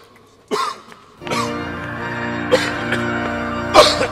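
Several separate coughs and throat-clearing bursts from a man during a church wedding scene in a French cough lozenge advert, spaced out over a steady background tone.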